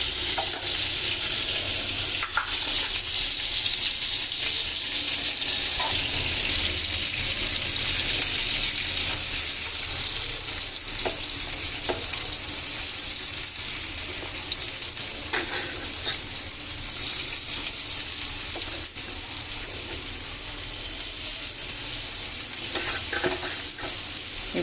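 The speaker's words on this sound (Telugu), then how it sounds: "బటర్ వేసి ఫ్రై చేసుకుందాం." Vegetables fry in homemade butter with a steady, loud, bright sizzle throughout, broken by occasional clicks and scrapes of stirring against the pan.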